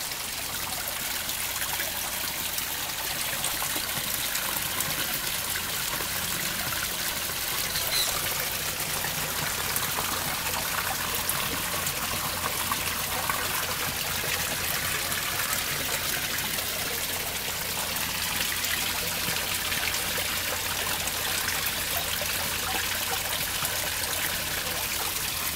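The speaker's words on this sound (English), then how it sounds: "That filter there is a Tetra PF1. Got slate all around it. Behind there, the hose is going to a UV light" Steady, continuous trickle of water from a Tetra PF1 filter in a slate-surrounded aquarium setup, a broad even wash of splashing that runs without pause at moderate loudness, with no talking.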